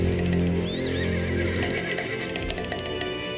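A horse whinnies loudly over a steady droning background in Black Desert Online, followed by a few light hoof clops.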